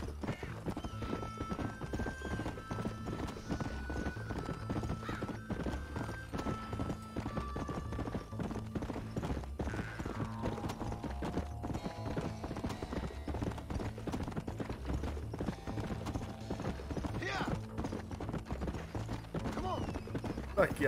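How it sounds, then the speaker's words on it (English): Horse hooves gallop in the Red Dead Redemption video game, a fast, even clip-clop rhythm throughout, with faint game effects and occasional whinny-like tones mixed in. "O cavalo tem pouco fôlego, mano. Ele cansa muito fácil."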